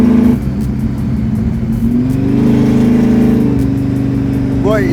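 An 800 HP blown big-block Camaro roars loudly from inside the car as the engine revs hard under acceleration, a steady dense drone rising in pitch, with occasional voices over it.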